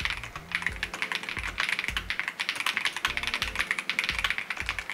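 Rapid typing on a mechanical keyboard with super red switches, a dense stream of crisp, close keystroke clacks with a steady rhythm and no voices.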